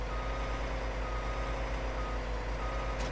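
An HTZ T-150K tractor in Farming Simulator 19 drones with a steady engine hum while a reversing alarm beeps in a regular, evenly spaced pulse throughout, with no talk.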